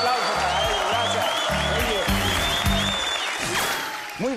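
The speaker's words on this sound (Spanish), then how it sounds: "me da un aplauso para ella, gracias." Studio audience applause on a Colombian Saturday TV comedy variety show, a loud, dense burst of clapping that holds steady with voices and low tones mixed in, then eases slightly toward the end.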